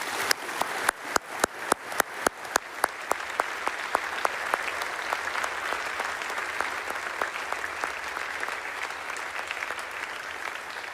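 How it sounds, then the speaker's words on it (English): An audience at a first-year university convocation breaks into applause, beginning with a few distinct sharp claps that quickly swell into dense, sustained clapping filling the hall. "Please join me in giving them a round of applause."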